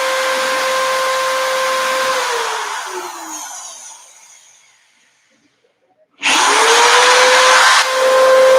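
A power drill whirs steadily and loud, then spins down and falls silent before starting up again sharply at full speed, close by with no talking.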